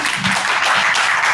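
Audience applause after a speaker's talk, a steady dense wash of clapping filling the whole moment at close, even loudness with no voices.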